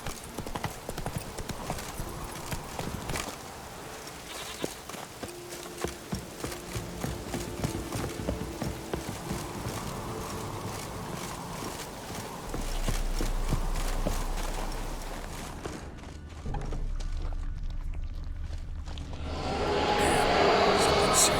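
Roach, Geralt's horse in The Witcher 3: Wild Hunt, gallops with rapid, close hoofbeats and a brief whinny, then the pounding gives way to low rumbling and wind-like noise, with sparse talk.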